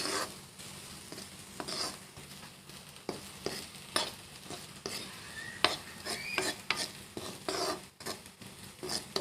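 Jatilao (bottle gourd) peel bhaji frying with an egg in a pan, stirred with a spatula: repeated scraping clinks and short strokes over a soft, steady sizzle, close and moderately loud.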